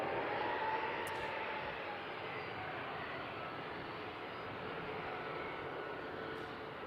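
An Embraer E-175 jet airliner at Seattle airport gives a steady, distant broadband engine roar that holds evenly throughout with no voices.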